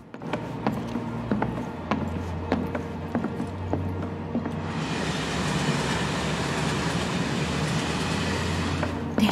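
A train rolls along in Final Fantasy 7 Remake, a steady rumbling drone with rhythmic clacking wheel beats over the rails, joined midway by a broad hissing rush of motion noise.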